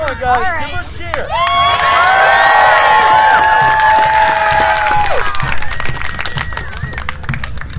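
A crowd at a Maine Renaissance Faire sword fight cheers loudly for a knight, with rising shouts and whoops swelling into a sustained roar that fades toward the end, mixed with voices calling out.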